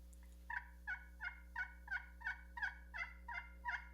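A hand-worked turkey call imitates a hen's yelp: nine evenly spaced, raspy two-note yelps repeat at a steady rhythm, close and clear over a low steady hum, with no talking.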